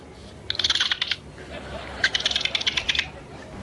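A young girl imitates a dolphin with her voice, producing two short bursts of rapid, high-pitched clicking chatter separated by a brief pause, close to the microphone.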